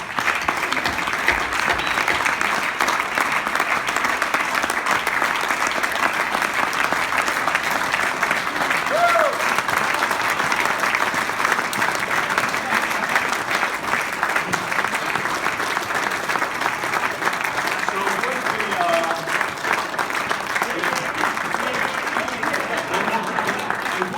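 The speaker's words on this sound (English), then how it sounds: "give him a round of applause" Audience applause for Todd at a farewell gathering, a long, steady round of clapping that carries on evenly for over twenty seconds, with scattered voices and cheers underneath.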